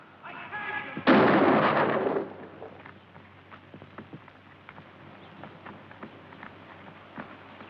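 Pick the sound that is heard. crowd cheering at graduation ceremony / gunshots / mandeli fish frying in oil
gunshots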